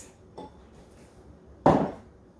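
Mini meatloaf pans go into an oven set to 350 degrees, a faint knock followed by one louder metallic clunk against a quiet kitchen background.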